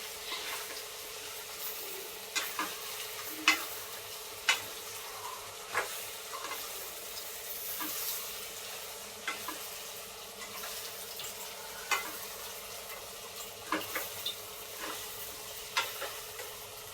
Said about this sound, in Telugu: ఫ్రై చేసుకొని బాగా కారం వేసిన తర్వాత పచ్చివాసన పోయిందాక వేయించుకొని